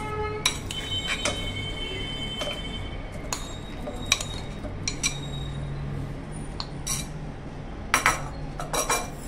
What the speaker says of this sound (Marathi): आता एका मिक्सरच्या भांड्यामध्ये ना आता आपण हा आंबा टाकून घेऊया।